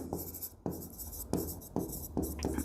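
A pen scratches across paper in short repeated strokes, faint and close, at a steady rhythm, while someone works through an accounting exercise. No one speaks.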